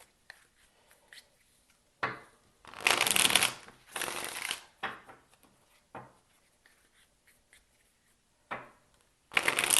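Tarot cards shuffled in several loud bursts of riffling and sliding, separated by quieter gaps of light handling, with no voices.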